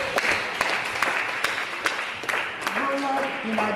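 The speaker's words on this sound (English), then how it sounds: "can we clap for them again?" An audience at a justice-access event in Anambra State, Nigeria applauds steadily for a few seconds, the clapping dense and continuous with sharp individual claps standing out.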